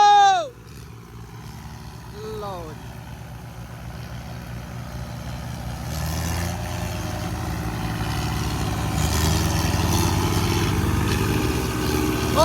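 A Holland or Farmtrac tractor engine strains in a tug-of-war pull. A steady, heavy diesel drone builds louder over the second half, with a brief shout near the start.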